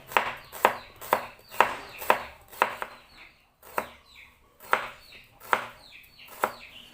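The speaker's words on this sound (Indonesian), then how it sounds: "ini aku gunakan 3 siung bawang merah diiris tipis juga" Thin slicing of three shallots with a knife on a cutting board: a steady series of crisp, close chopping taps, several in quick runs separated by short pauses, with no talk.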